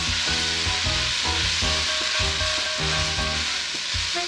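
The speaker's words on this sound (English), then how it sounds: "In oil, and then all of our alliums and peppers going into the pot." Alliums and peppers sizzle steadily in hot oil in a pot for chili, a dense, continuous frying hiss close up with occasional stirring scrapes and no voices.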